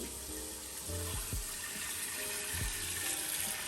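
Steady running tap water fills a container for homemade kvass with a soft, constant hiss, fairly quiet, with a few low clunks in between.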